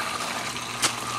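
Water flows steadily out through a pipe in an IBC aquaponics fish-tank system, a continuous close rushing trickle with a brief louder splash near the end.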